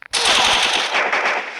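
Rapid automatic gunfire from a machine gun in the Free Fire video game rattles loud and dense for over a second after a brief click, with no voices over it.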